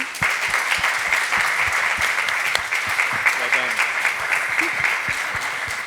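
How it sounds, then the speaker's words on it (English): A conference audience gives a round of applause for two speakers who shared their patient story, steady, closely packed clapping that carries on evenly for several seconds. "A big round of applause to them."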